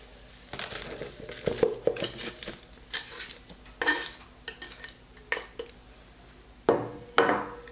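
Coconut substrate and other potting soil components are scooped and mixed close by, heard as scattered dry scrapes, rustles and clunks at an uneven pace with no talking.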